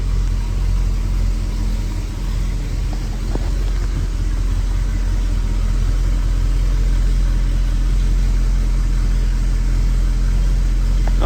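A 1976 Ford F-150 engine idles in a steady, even, low rumble that holds at a constant level throughout, with no one talking.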